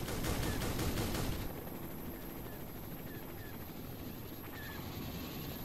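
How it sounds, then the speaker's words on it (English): Combat helicopter in Garry's Mod unleashing a dense, loud volley of rockets and gunfire, a roaring burst for the first second and a half that then settles into a steady, busy rumble of distant battle. "Rockets are flying out from that helicopter."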